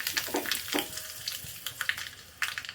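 Mustard seeds, dried red chillies and curry leaves sizzling in hot oil for a tempering, with scattered sharp pops and crackles over a soft hiss. Fairly quiet and close.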